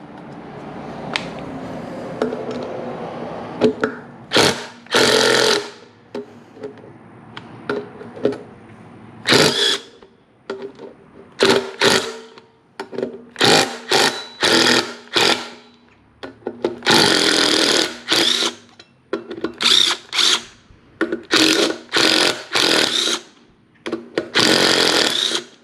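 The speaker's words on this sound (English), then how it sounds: "And then we'll unbolt the rotor, and I'll use a gun on that." Impact gun unbolting the rear brake rotor of a Can-Am Spyder F3T, repeated short loud bursts of hammering whir with gaps between, no talk.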